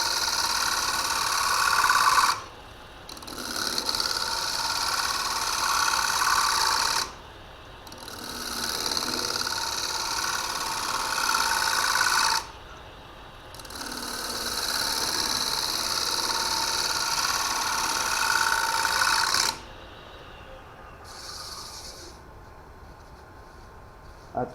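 A wood lathe turns a bowl while a tool scrapes it, producing a loud, rough whirring hiss in four long passes of about five seconds each, separated by short pauses, then a brief final touch.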